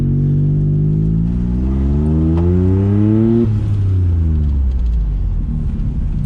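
A tuned VW engine with a brand-new clutch revs hard under load, pitch climbing steadily for several seconds, then dropping and bogging down, a loud close continuous rumble with no talking.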